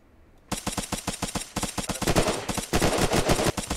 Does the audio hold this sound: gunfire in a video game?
yes